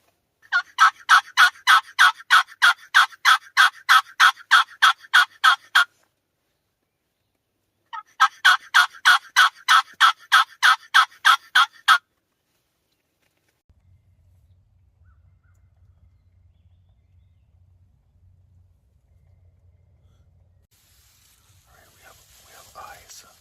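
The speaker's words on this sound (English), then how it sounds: "we now have some gobbling not too far, kind of off to our left" Wild turkey gobbling during a spring youth hunt comes in two loud, rapid rhythmic bursts at fairly close range. Afterward a faint low rumble follows, with soft whispered talk near the end.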